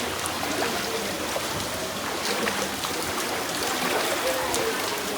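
Floodwater rushes through Jaskhar village in a steady, dense hiss of flowing water, close and unbroken for the whole stretch.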